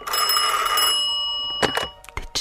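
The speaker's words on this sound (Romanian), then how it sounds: "Cum am ajuns acasă, a sunat telefonul." An old telephone bell rings loudly in a continuous burst for about a second, then short, sharp repeated rings follow after a pause, with no voices.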